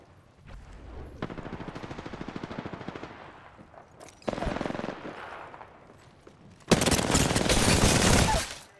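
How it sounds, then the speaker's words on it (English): Automatic gunfire in Apex Legends, several loud rattling bursts of rapid shots separated by brief pauses, with the last burst the heaviest and densest. "No, they're shooting my teammate."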